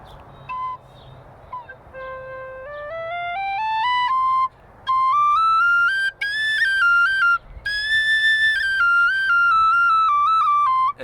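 A 2003 Nick Metcalf copper tin whistle in C plays a clear, bright melody, close and solo, with rising runs and held notes broken by short pauses.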